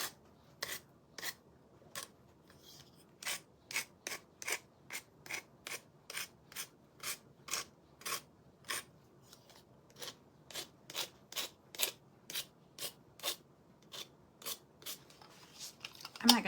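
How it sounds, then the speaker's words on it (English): Sanding paper lightly scuffs a dry-brushed, pink-painted piece in a regular series of short, crisp rasping strokes, close and fairly quiet. "I think I will scuff it a little bitty bit."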